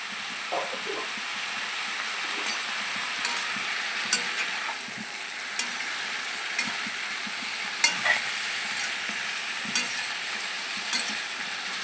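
Large chunks of breadfruit cook with chicken in hot oil, making a constant close sizzle and crackle dotted with small pops and utensil taps, with no speech.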